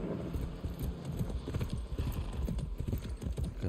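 Steady clip-clop of horse hooves in a quick, even rhythm, fairly close, with a low rumble of movement underneath, from the video game Far Cry 6.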